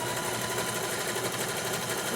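A sewing machine runs steadily at close range, a fast even mechanical whirr with a rapid stitching rhythm that holds without a break.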